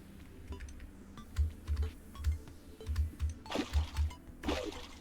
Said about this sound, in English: I bet you can hear me, like, violently tapping my keyboard.